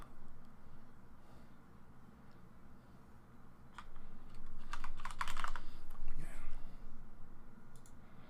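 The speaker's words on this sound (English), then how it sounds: "I'm using a keyboard with Cherry MX Reds, so they're pretty quiet." Typing on a mechanical keyboard with Cherry MX Red switches, soft close clicking that builds into a denser burst of keystrokes midway, fairly quiet against a low room hum.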